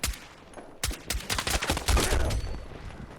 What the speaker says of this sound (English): Whiff a few shots, but managed to pick him up.